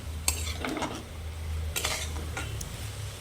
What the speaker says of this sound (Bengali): চিংড়ি মাছগুলো দিয়ে দেওয়ার পর আমি ভালো করে নাড়াচাড়া করে